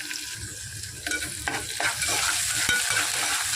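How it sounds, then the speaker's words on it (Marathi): Onion with turmeric sautés in oil, a close sizzling hiss that grows louder as a spoon stirs and scrapes the pan a few times. "हळद टाकून झाल्याच्या नंतर आपण हे छान भाजून घ्यायचं कांदा छान परतून घ्यायचा तेलामध्ये"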